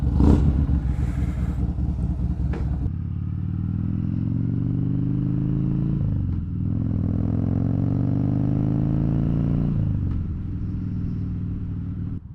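Harley-Davidson Dyna Fat Bob (FXDF) motorcycle engine runs close by, a deep steady rumble that rises and falls as the throttle is blipped twice, each rev swelling and then dropping back.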